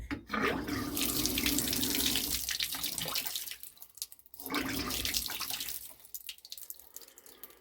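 Water gushes from a Pfister tub shower faucet after a cartridge replacement, a loud steady rush that stops briefly midway, restarts, then tapers into softer trickles and drips.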